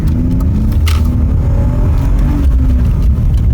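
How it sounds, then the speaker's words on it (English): A BMW E46 6-cylinder engine revs hard and loud after a clutch replacement, its pitch rising steadily as it accelerates, heard up close from inside the car. "Such a strong motor. Really, really nice to drive."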